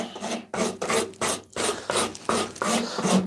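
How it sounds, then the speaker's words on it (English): A round rasp files the inside curve of a wooden axe handle, giving a steady series of about eight coarse, loud scraping strokes up close, each a gritty rasp with brief pauses between, and no talking. "you actually have a round, a round file, round rasp that can get into the inside of a curve"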